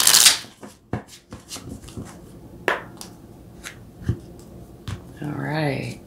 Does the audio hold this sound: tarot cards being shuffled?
yes